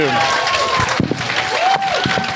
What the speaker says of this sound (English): Round of applause. Let's give it up.